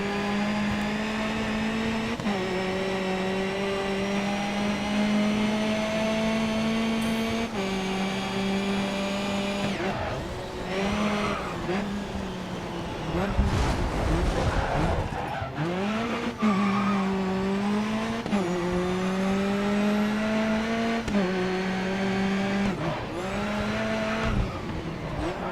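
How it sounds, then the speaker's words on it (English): Race car engines and exhausts in the GRID Autosport touring car video game, a continuous, crisp, high-revving whine that rises and drops with repeated gear changes, with occasional tire squeal and no talking. "You can hear very good crisp clear sounds of the engines and exhaust in each of the cars."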